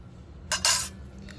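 A spoon clinks against a dish while sugar goes in during home cooking: two quick bright metallic taps close by, then quiet.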